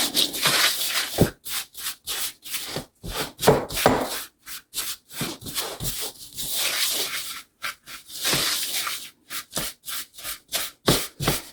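Dry ingredients for old-fashioned lemon cups being mixed in a bowl, a close, loud scraping and rubbing repeated in quick uneven strokes with brief pauses between, no talking.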